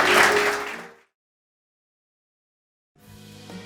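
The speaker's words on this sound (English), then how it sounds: "let's give God a hand clap of praise" A church congregation clapping hands in praise after a sermon, a short burst of applause that fades out into silence before a quieter sound returns.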